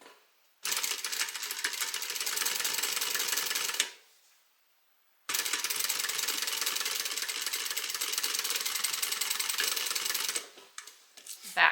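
A sewing machine back stitches a bag at close range, running in a loud steady mechanical whir for about three seconds, then stopping briefly before a second, longer run.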